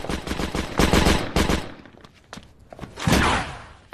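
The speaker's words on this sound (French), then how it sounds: "il tirait par rafales très courtes" Short bursts of machine-gun fire from a gunman in an Italian thriller about the Aldo Moro kidnapping, loud rapid volleys with a brief pause before a final burst.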